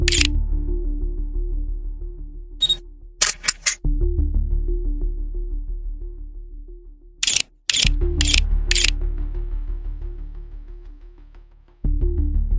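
Camera shutter clicks as photos are snapped, several sharp mechanical clicks in small bursts over a steady low hum, loud and close with no voices.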